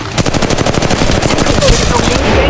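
Rapid automatic gunfire in the battle royale shooter Apex Legends Mobile, loud close bursts of evenly spaced shots that run almost without pause, turning into a denser, rougher clatter toward the end.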